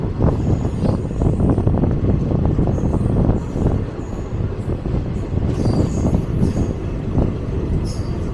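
The West Coast train runs on rails near Bommidi station, a loud continuous rumble of wagons with rhythmic wheel clatter and occasional high metallic squeals.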